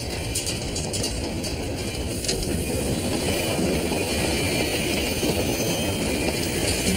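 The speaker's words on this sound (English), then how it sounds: "we just jumped onto a speeding train" A steady, loud rumble of a moving train fills the clip, a dense low roar with a faint rattle and no voices.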